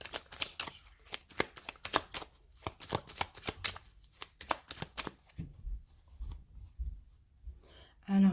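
A deck of tarot cards being cut and shuffled close up, a fast run of crisp riffling flutters and taps for about five seconds, then quieter handling and a soft thump; no talking.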